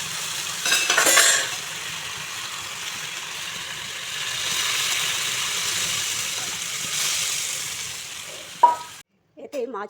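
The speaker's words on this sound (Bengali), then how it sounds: "মরিচটা কষানো হয়ে গেছে, এখন আমি তরকারিটা দিয়ে দিচ্ছি।" Chili paste and a dried bean-seed curry sizzle and fry in a pan over a gas flame, a steady hiss broken by a few spoon-stirring scrapes near the start and a clatter near the end.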